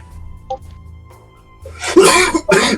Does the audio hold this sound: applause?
no